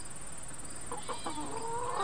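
Hens squawking and clucking in a backyard coop, several short agitated calls overlapping at close range over a steady high hum, with no talking.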